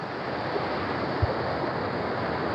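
Water from Koshmal Waterfall in Dang flows past in a stream, an even, continuous rushing hiss at moderate loudness, with one brief low bump midway and no one speaking.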